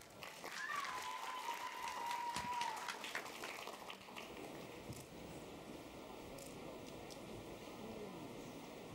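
Applause rises from the audience at a freshman ball at a Romanian national college, steady and fairly distant, with a sustained tone from the sound system heard over the clapping as it carries on.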